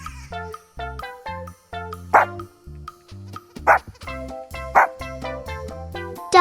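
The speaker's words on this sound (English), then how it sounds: "This is a dog." A dog barks in short, sharp bursts, several yips repeating at irregular intervals over a few seconds, close and fairly clear with no speech.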